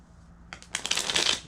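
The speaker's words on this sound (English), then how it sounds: "I'm doing a horrible shuffle right now." Someone gives a deck of playing cards a quick, clumsy shuffle close by. Two light taps lead into a fluttering riffle of cards lasting under a second, with no talking over it.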